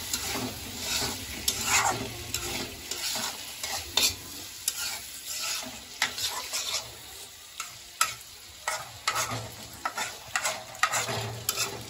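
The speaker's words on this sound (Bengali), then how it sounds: "প্রথমে আলুটা দিব, পরে দিব আলু দিয়া বেগুন গুলো দিয়ে।" Potatoes and eggplant cook in a pan with a steady frying sizzle broken by repeated scraping stir strokes, close and moderately loud, with no talking.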